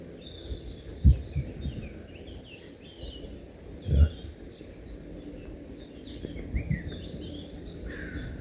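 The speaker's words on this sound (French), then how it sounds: "Une chose qui est bien, d'entendre les oiseaux le matin." Birds singing in the morning at an outdoor campsite, many small chirps and trills layered steadily at a moderate distance, with a couple of low thumps nearby and no talking.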